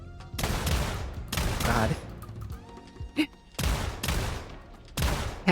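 Shotgun fire in a video game, several heavy booming blasts in quick succession with short gaps between volleys, loud and close, and a voice briefly exclaiming between shots.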